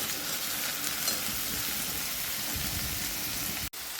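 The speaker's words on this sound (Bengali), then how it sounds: "পেঁয়াজ রসুন ভাজা হয়ে গেছে, আমি এর মধ্যে বেটে রাখা জিরা আর আদা ভালোভাবে ভেজে নিচ্ছি" A paste of ginger, garlic, onion and cumin fries in a pan with a dense, rain-like hiss that runs steadily and close, broken once by a brief dropout near the end.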